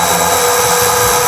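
A power tool whirs steadily at close range while driving a bolt during a shelf install in a fifth-generation Toyota 4Runner, one brief continuous burst with no pauses.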